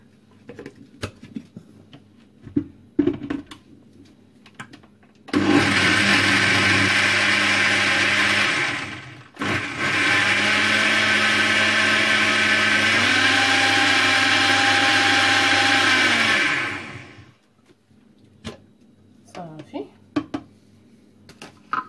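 An electric blender grinds a cake mixture in two loud, steady bursts of about four and eight seconds, separated by a short pause, with faint kitchen clatter and a voice before and after.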